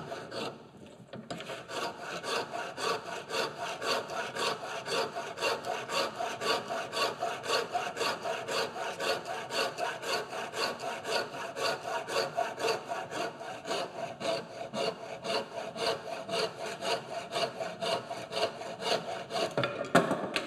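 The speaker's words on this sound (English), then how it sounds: "The bow saw really it's doing exactly the same as a bandsaw would do." A hand bow saw cuts through wood in steady, rapid back-and-forth strokes, a continuous rasping rhythm close by with no talking over it.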